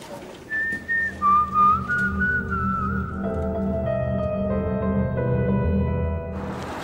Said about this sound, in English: You're whistling something.